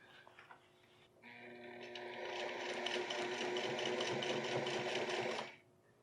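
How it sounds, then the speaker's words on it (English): Sewing machine stitching down the edge of a quilted vest sleeve, a rapid close mechanical whir and ticking that starts after a few soft clicks, runs steadily for about four seconds, then stops abruptly. "I just stitch it down on the other side for the finish."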